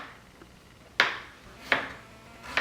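Roasted Cajun potato chunks knocking and scraping in a big serving bowl as they are mixed, with three separate sharp clacks at regular intervals, close and moderately loud with quiet pauses between.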